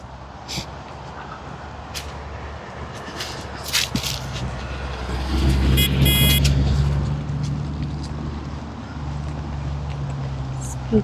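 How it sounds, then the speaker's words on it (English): A single car approaches and passes on a street of painted houses in Grimsby, Ontario, its engine and tyre rumble swelling to a peak midway and fading away, with faint background noise and brief clicks. "Here comes a car."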